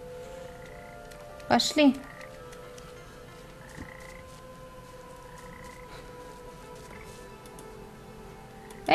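Frog croaking in the video game Papo & Yo, a short double croak burst near the start over steady soft game ambience and tones, followed by quieter background with someone speaking briefly.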